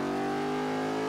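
An old front-engine, rear-wheel-drive Porsche in Forza revs steadily, a loud, sustained engine drone that holds a constant pitch for the whole moment, alone with no talk.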